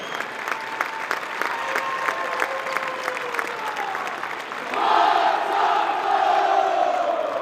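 Basketball fans in a university arena applaud and cheer the 2012 Western Carolina Catamount seniors, a broad, steady roar of clapping with whoops and shouts that swells louder partway through.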